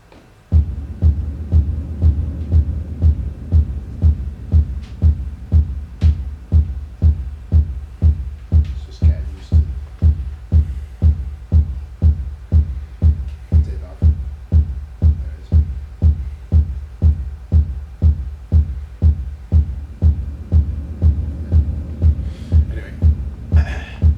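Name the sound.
drums with reverb effect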